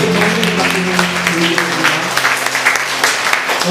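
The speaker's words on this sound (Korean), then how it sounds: "함께 영광의 박수 청해 주시기" Congregation applauding during a Sunday church worship service, a steady dense wash of clapping from many hands that fills the whole stretch with no voices over it.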